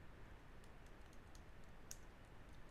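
Someone types on a computer keyboard while writing code, producing steady, quiet, close clicking keystrokes in an irregular rhythm with no talking.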